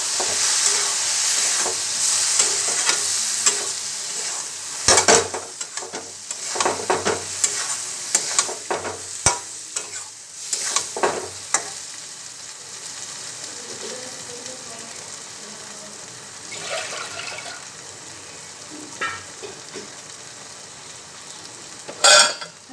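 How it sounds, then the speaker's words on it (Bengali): Dry peas stir-fried with coarsely ground spices for ghugni, a steady sizzle broken by repeated scraping stirs and clinks of a spatula against the pan, close and fairly loud with no talk. "এবারে মটরটা দিয়ে দিলাম দিয়ে এবার এটাকে ভালো করে কষিয়ে নেব"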